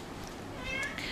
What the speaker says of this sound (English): if you hear meow meow meow, it's my cat outside there.